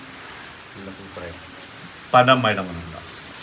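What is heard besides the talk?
rain falling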